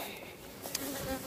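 Honeybees buzzing around a hive during a hive split, a dense, continuous drone of many bees close by, with individual bees briefly passing louder. No one speaks.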